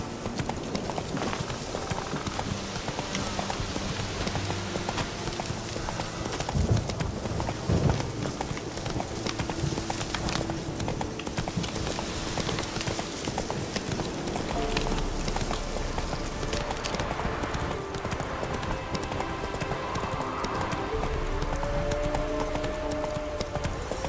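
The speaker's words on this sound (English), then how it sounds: "Whoa there, Roach" Horse hooves clip-clopping at a trot in The Witcher 3 video game, a steady rhythmic patter of footfalls running continuously through the whole stretch alongside game ambience.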